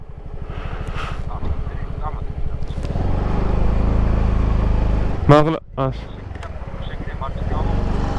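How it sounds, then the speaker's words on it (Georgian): Scooter engine while riding, a buzzing motor note that rises and falls with the throttle, fairly close and continuous, with a person talking over it. "სკუტერით ვარ."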